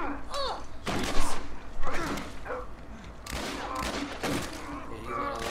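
Gunfire from military soldiers in the video game The Last of Us, with bursts of shots and thuds scattered among game sounds, moderately loud and partly mixed under voices.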